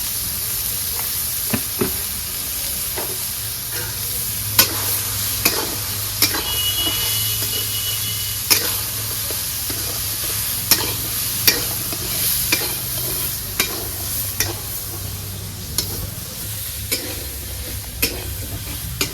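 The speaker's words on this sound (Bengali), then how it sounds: "এই যে হলদি লবণের সাথে ভালো মতন মিক্স হয়ে গেছে।" A Bengali papaya and soybean vegetable curry is stirred with turmeric and salt in a hot pan, steady sizzling frying under repeated sharp scrapes and taps of the spatula against the pan, no talking.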